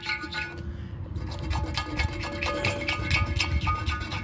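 A piece of broken ceramic scrapes paint off a toilet tank in quick, repeated rasping strokes, close and rhythmic after a brief pause near the start.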